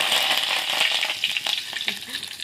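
Curry leaves and garlic sizzle and crackle steadily in hot oil, a close, bright frying hiss with scattered pops near the end, heard alone without speech.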